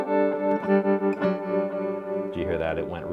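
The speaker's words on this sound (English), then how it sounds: "the speed of the tremolo will change" Electric guitar notes pulse with a wavering tremolo from a Red Panda Radius pedal whose throb speeds up and slows down randomly, ringing with echo and effects.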